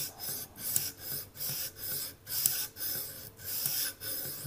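Rhythmic rasping strokes of a convex knife blade drawn across a TSPROF sharpening stone, about eight even back-and-forth passes, close and steady with no talking.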